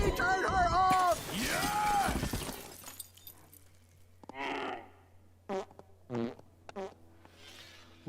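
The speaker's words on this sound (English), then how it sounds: "Why does it keep farting?" Cartoon moose from the animated film Doogal letting off a series of short, loud, wet farting bursts, spaced irregularly after a burst of loud shouting and crashing at the start.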